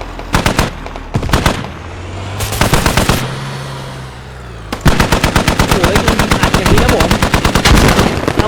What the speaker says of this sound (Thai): เดมอนยิงหลังไปครับหนึ่งนัดครับผม